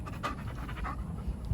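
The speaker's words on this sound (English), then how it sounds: "there's the puppies" Puppies pant in quick, rhythmic breaths close by, a steady huffing with no talk, in a sunny Southeast Texas yard near a back porch.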